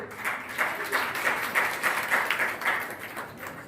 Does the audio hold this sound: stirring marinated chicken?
no